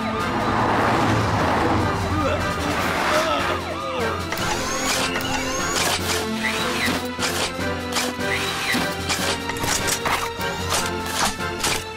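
A rescue team's siren in the Robocar Poli cartoon wails continuously as the vehicles arrive, mixed with bright music and cartoon sound effects throughout.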